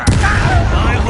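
A Confringo fire spell bursts in Hogwarts Legacy, a sudden loud fiery boom that fills the whole second with a dense, rumbling roar.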